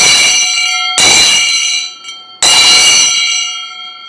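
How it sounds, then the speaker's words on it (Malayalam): Bronze ilathalam hand cymbals of a Kerala chenda ensemble are struck twice, each a loud, close metallic clash that rings on with bell-like shimmering overtones and slowly decays, with a brief faint ting between strikes. "നാനൂറ് ഇലത്താളം മണിയുണ്ട്"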